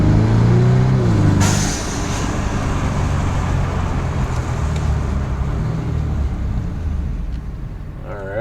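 Cabin of a Mercedes E300 fitted with a QTP exhaust cutout, cruising near 40 mph: a steady, loud low exhaust drone and road rumble fill the interior throughout, with a brief louder swell near the start.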